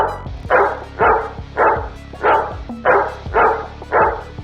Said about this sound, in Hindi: एक घर के सामने आकर वो बहुत ज्यादा ही भौंकता